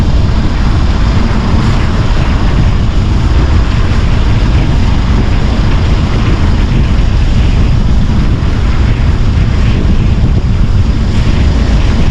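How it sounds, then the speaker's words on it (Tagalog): Steady roaring wind buffets the microphone throughout, a constant low rumble with no pauses and no voices. "Kahit malakas ang hangin"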